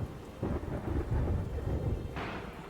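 Rumbling thunder from the Stormcloud Sentry weapon in Terraria's Calamity mod, a short, deep rolling crash with a sharper burst near the end, heard alone.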